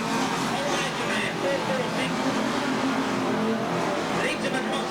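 Unlimited banger race cars thunder around Ringwood Raceway in a dense wash of engine roar and crowd noise, loud and continuous, with an announcer talking over it.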